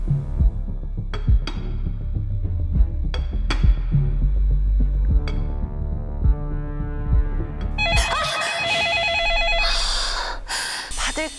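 Low throbbing tones and soft thumps give way to a telephone ringing loudly and insistently near the end.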